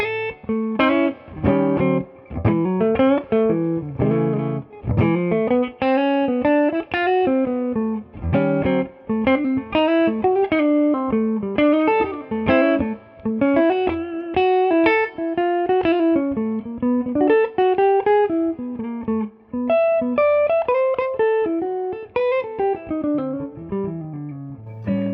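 Electric guitar through a Two Rock Bloomfield Drive overdrive pedal with a compressor plays a continuous melodic line with thick, warm distortion and full bass, sustained notes blooming throughout, no voices.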